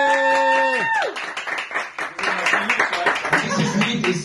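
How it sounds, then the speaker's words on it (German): After a sung note ends, an audience at a live German cover performance breaks into clapping and applause, dense and steady at moderate loudness with voices underneath. "Und von uns allen auch nochmal ein riesen Applaus an Michi und Lulu."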